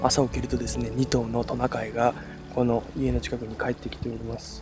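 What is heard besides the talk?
river flowing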